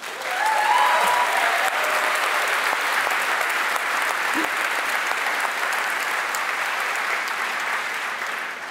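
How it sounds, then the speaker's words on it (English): A large conference audience at Google I/O '17 breaks into sustained applause, a loud dense wash of clapping that holds steady for several seconds with no talking. "Can we give them a round of applause?"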